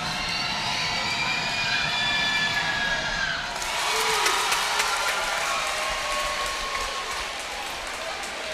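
Crowd noise fills a high school gym during a girls' basketball game at Westover, home of the Wolverines, as a steady roar that swells louder midway, with cheering and broad hiss-like noise.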